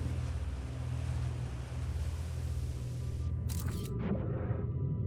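Heavy water pouring down in Outer Wilds, deep at the bottom near drilled-out ore workings: a steady, loud, broadband rushing roar that runs throughout, with a few brief higher splashy bursts toward the end.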